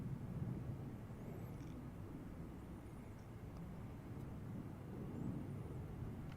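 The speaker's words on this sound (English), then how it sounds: "Lot Polish Airlines here, arriving on runway 28 center." A LOT Polish Airlines Dreamliner from Krakow arrives on runway 28 center at Chicago O'Hare, heard as a faint, distant, steady jet rumble that swells gently and recedes, with no voices.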